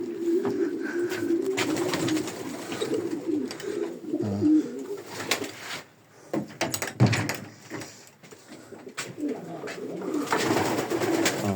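Male pigeons coo in low, throaty rolling calls, several birds overlapping close by, with occasional knocks and shuffles in between.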